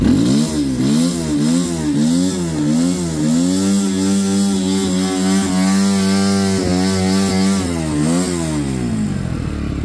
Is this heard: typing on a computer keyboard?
no